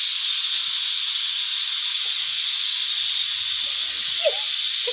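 A pressure cooker whistle hisses in a loud continuous steam jet throughout, with faint thumps and a brief yelp-like sound from a frightened dog near the end.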